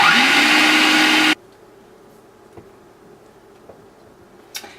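Blender pureeing bananas for raw vegan bread, a loud, steady whirring roar for just over a second that cuts off abruptly, followed by faint clicks and quiet room noise.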